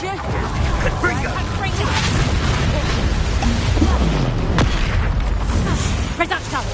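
A Confringo fire spell bursts in Hogwarts Legacy amid constant battle noise, with booming impacts and rumbling blasts over a dense, loud mix, while a voice talks over it.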